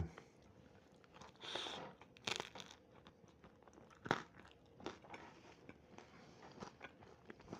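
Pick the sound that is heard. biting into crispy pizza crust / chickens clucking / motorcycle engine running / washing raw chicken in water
biting into crispy pizza crust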